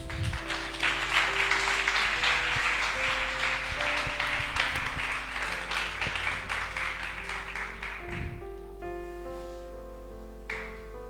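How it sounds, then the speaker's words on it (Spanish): Sustained applause from a church congregation fills most of the clip over a steady musical tone, then fades out near the end leaving the held tone. "Yo que tú le daría un aplauso al Señor."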